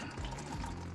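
Transmission fluid from a Honda CR-V's CVT pours steadily out of the drain plug opening into a drain pan, a continuous close liquid splashing with no talking.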